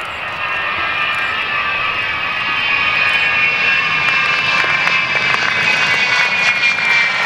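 Loud, sustained roar of a Vulcan B2 bomber's engines with a high whining drone during an air display at RAF Waddington, holding steady and growing slightly stronger, no voices.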